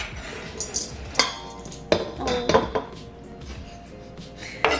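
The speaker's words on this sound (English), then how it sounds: "let's combine the peppers" Peppers go into a pan in a home kitchen for burrito bowls, with clanks of metal and utensil knocks against cookware in scattered bursts, close and fairly loud.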